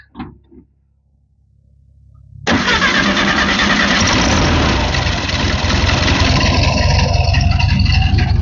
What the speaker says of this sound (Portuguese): vou mostrar então aqui o motor funcionando perfeitamente.